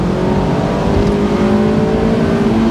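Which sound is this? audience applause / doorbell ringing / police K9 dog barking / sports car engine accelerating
sports car engine accelerating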